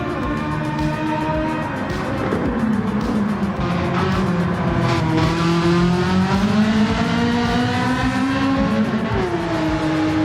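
A Ferrari race car engine roars in a racing video game, a loud continuous high-revving drone whose pitch slowly rises and falls as the car accelerates and eases off, with no voices.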